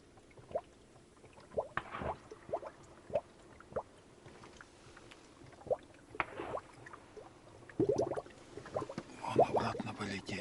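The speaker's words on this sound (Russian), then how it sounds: "Булькает что-то под ногами." Water bubbling and gurgling underfoot in a hunting hide during a spring duck hunt, heard as scattered soft wet pops and squelches that come in irregular bursts, faint and close, with a low murmur of voices.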